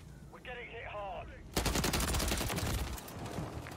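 Sustained automatic gunfire in the Modern Warfare 3 multiplayer video game, a dense loud burst of rapid shots shooting through a wall, starting abruptly after a quieter opening and rattling steadily to the end.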